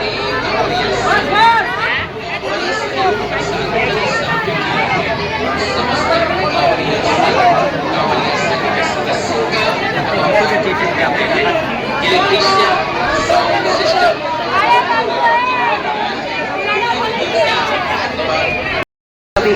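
Continuous loud chatter of a large crowd at the Shambhunath temple jal yatra in Barrackpore, many overlapping voices and bustle for the whole stretch, cutting off abruptly at the end.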